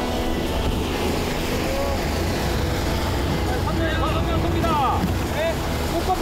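A leisure motorboat stopped in a no-fishing zone by coast guard keeps up a steady low engine drone over open water, with wind buffeting and voices talking on top.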